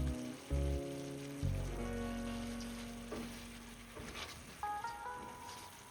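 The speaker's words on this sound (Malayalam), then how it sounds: "എല്ലാം കൂടി മിക്സ് ചെയ്ത് കൊടുക്കാം" A vegetable biryani mix with mint and coriander leaves is stirred in a hot pot, giving a steady, fairly loud sizzle and frying hiss under soft background music.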